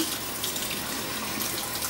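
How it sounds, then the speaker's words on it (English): Tap water runs steadily over quinoa being rinsed in a kitchen sink, a constant close hiss of flowing water with no pauses and no voices. "We're going to wash it under running water"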